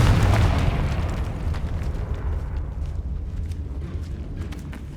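A Confringo spell blast in Hogwarts Legacy bursts loudly at the start, then rumbles and decays into a long crackling tail with scattered pops.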